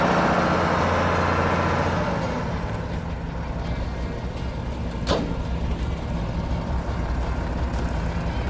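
A Unimog truck creeps along in its low work gears, its engine giving a steady, close, low rumble that drops slightly after the first couple of seconds, with one sharp click midway.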